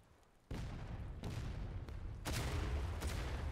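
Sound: counter-battery artillery shots in video game War of Rights

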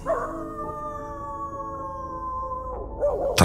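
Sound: dog howling in the distance

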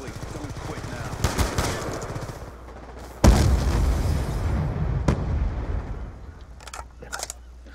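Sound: gunfire from the video game Black Ops 2

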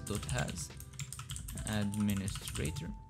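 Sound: typing on a computer keyboard

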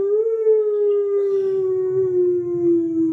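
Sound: voice imitating wolf howling

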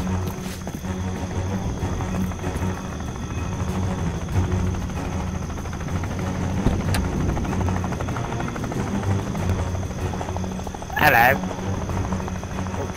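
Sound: helicopter in the VR video game War Dust

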